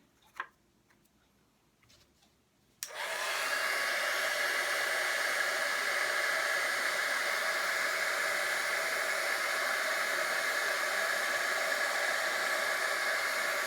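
A heat tool switches on after near silence and a click, then blows a steady, loud, close hiss of hot air while melting embossing powder on a handmade card.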